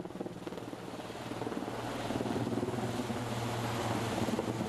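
A firefighting helicopter flying overhead, its steady rotor roar growing slightly louder and heavier as it continues.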